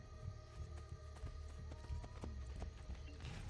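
Horse hooves clip-clopping in Assassin's Creed: Brotherhood, a steady close trotting rhythm over a low game hum, with a faint whinny-like tone.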